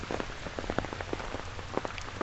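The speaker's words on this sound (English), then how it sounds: "Alright, let's go back in the rain, yeah?" Rain falls during a typhoon at Victoria Peak in Hong Kong, making a dense steady patter of drops with sharper splashes scattered through it, close and continuous with no voices.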